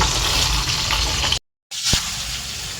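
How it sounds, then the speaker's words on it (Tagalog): Moringa leaves frying in oil give off a steady, close sizzle, broken by a brief total silence before the crackling resumes. "Ayun yung piniprito ko"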